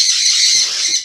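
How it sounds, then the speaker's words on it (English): Pet birds squawk loudly and harshly at close range in one continuous shrill burst of about a second, with a faint low thump partway through. "The birds will not shut up."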